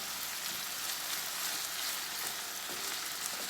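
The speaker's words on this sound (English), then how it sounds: "for browning ground beef, sometimes these little chunks, they're kind of hard to break up" Ground beef sizzling as it browns in a pan, a steady, fairly quiet frying hiss that carries through the whole moment, with no voices.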